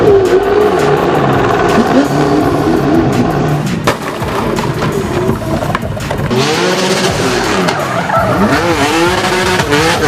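Red Bull Kluge racing car spins circles on dirt, tires skidding and engine revving hard in continuous loud bursts, with the pitch swinging up and down as it slides around close by.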